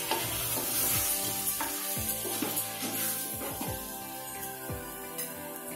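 Cauliflower sizzles in a pan with chilli powder, coriander powder and salt as it is stirred, a steady frying hiss broken by repeated scraping stir strokes, close and fairly quiet with no talking.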